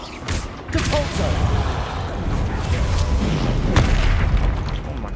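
Depulso spell blasts in Hogwarts Legacy, a sudden heavy boom followed by sustained rumbling impact noise, loud and close, with a voice shouting briefly at the start.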